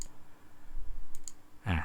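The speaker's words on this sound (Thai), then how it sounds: "แล้วก็คลิกเมาส์ไปทีเดียว แล้วก็ปล่อยนะครับ" A computer mouse gives a few quiet, sparse clicks close by, followed by a slightly louder click-and-release, with no talking.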